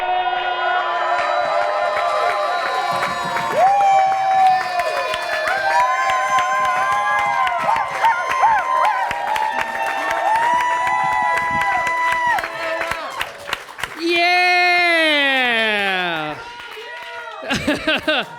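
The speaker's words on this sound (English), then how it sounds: "Guys, get the round of applause going for my man, Noah Copfer!" A comedy club audience at a stand-up special cheers and applauds as the comedian is brought on, a loud, sustained crowd roar full of whoops and shouting that dips briefly near the end.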